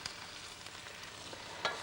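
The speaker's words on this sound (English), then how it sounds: "as the butter melts, I'll just stir the cabbage around in it" Red cabbage stirred through melting butter in a pan, a soft continuous sizzle broken by light scraping strokes of the spoon, close and fairly quiet.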